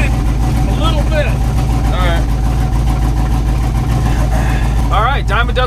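S10 drag truck with a junkyard LS engine, eBay cam and a slight manifold exhaust leak, running with a loud, steady, choppy rumble close by, while people talk over it.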